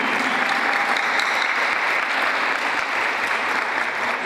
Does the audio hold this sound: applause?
yes